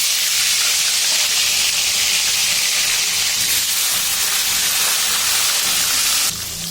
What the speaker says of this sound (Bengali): এই দেখো তেল গরম হয়ে গেছে, এবার মাছ দিয়ে দেব।